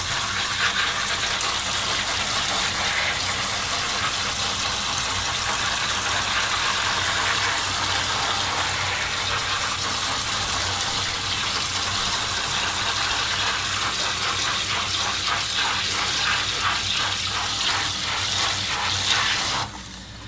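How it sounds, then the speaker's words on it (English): RO-filtered well water gushes steadily from a tap to rinse spirulina, a loud continuous rushing flow lasting about twenty seconds before it cuts off. "So we have a RO water that comes out of the tap here from the well, and we're just going to go ahead and give it a nice rinse."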